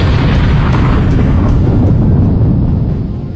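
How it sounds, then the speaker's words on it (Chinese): A massive, world-shattering explosion in an animated fantasy story, set off by a demon dragon's full-force strike, fills the air with a dense, loud roaring rumble that holds for over three seconds before easing slightly. "在毁天灭地的爆炸声过后"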